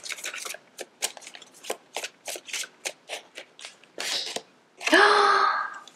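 Tarot cards shuffled by hand, a quick run of crisp riffling slaps and flicks in steady rhythm, close and clear, ending with a longer whooshing riffle as cards are pulled from the deck.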